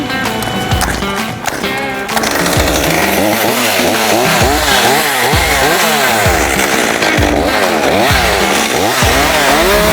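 A chainsaw trims tree branches up in a tree, running loud and close for the full stretch with rapid repeated revving surges, its buzzing engine rising and falling in a steady cutting rhythm.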